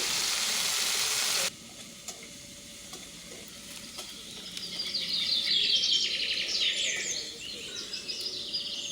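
Ground spice paste fries in a pan for bhetki fish curry, a moderate sizzle with crackling spatters swelling midway, following a brief loud hiss at the start.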